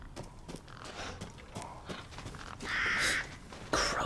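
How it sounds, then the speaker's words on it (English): Crows cawing in the video game Resident Evil Village, several harsh caws scattered among footsteps and other game noises, with a louder burst of cawing near the end. "Crows, god dang it."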